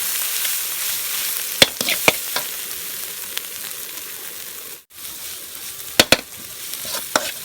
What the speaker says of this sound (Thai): เรามาผัดเครื่องกันเลย